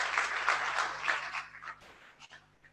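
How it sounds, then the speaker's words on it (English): Audience applause at a Lagos grant award ceremony, a fairly faint patter of clapping that thins out and fades over a couple of seconds, leaving a few scattered claps. "A round of applause for him"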